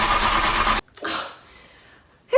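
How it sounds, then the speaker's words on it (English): A car engine tries to start with a loud rough burst that cuts out abruptly, then a brief cranking sputter fades to near silence before another short burst begins. "Let's start the engine."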